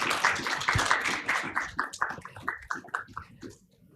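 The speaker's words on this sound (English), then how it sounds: "I think a big round of applause to the panelists" An audience applauds panelists at an e-commerce and CSR session, a brief burst of many hands clapping that quickly thins out and fades within a few seconds.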